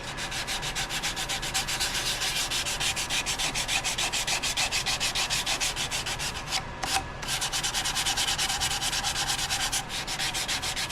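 Steady rhythmic rubbing of sandpaper against a spinning wooden vase on a lathe, a continuous gritty hiss pulsing evenly, briefly interrupted twice.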